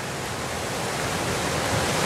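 Running water at a WWII monument fountain pours in a steady, broadband rush, an even continuous wash with no voices over it.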